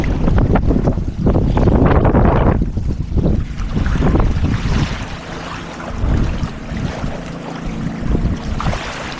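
Loud, constant rush of water slapping and churning against a boat hull, mixed with heavy wind buffeting the microphone.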